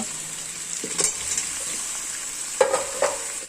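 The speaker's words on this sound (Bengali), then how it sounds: "এবার আমি ভাজা আলুটা মাংসের মধ্যে দিয়ে দেব।" Fried potatoes are stirred into a pot of desi chicken curry cooked Bengali style, giving a steady close sizzle. A few sharp scraping clicks from the stirring break through the hiss.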